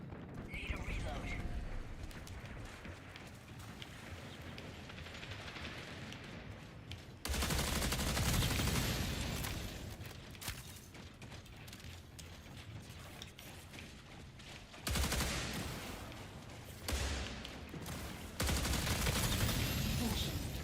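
Gunfire rattles through a match of Marathon, an extraction shooter video game, with bursts of rapid automatic shots, loud stretches that cut in and out, and mechanical clicks, while a voice talks over the action.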